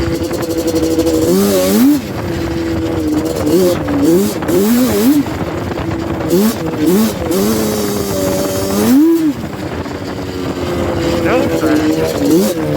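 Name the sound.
Yamaha Banshee ATV engine revving, riding in snow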